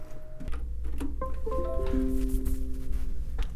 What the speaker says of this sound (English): turn your printer on by pressing and holding this power button